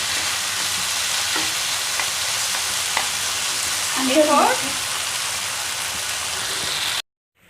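Vegetables and tomato sauce for spring roll filling are stirred in a frying pan, with an even hissing sizzle throughout and a brief scraping clatter midway before the sound cuts off.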